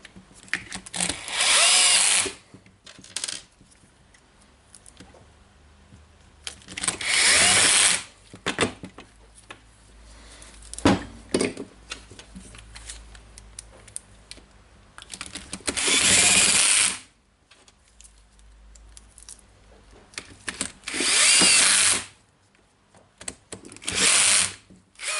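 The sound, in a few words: cordless Bosch drill driving screws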